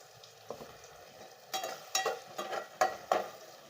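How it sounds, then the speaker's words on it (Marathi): Masala for a spicy sandge rassa bhaji being stirred and fried in a pan, giving a soft sizzle broken by several louder scraping stir strokes in an irregular rhythm, close and alone. "चार पाच मिनिट चांगला असा परतून घ्यायचा हा मसाला"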